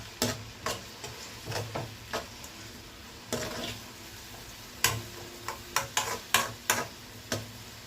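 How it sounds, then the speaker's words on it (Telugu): Tomato pieces softening in oil in a pan for paneer kurma, a soft sizzle under intermittent stirring scrapes and taps of a spoon against the vessel. "ఇప్పుడు టమాటా ముక్కలు వేసేద్దాం. టమాటాలు కూడా కాస్త బాగా సాఫ్ట్గా మగ్గాలన్నమాట ఆయిల్లోనే."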